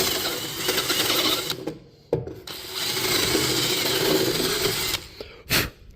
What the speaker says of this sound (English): sticky back sandpaper, wrapped it around the bit. Just use that to slowly wallow out the holes